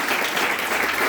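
An audience claps in a dense, even burst of applause, welcoming two guests at a gathering, with no voices over it.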